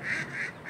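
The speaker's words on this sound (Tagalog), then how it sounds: "May alaga silang duck." Pet ducks kept at a home near the Philippine Embassy in Israel give a loud, nasal honking quack, three drawn-out calls in quick succession, close by with no talking.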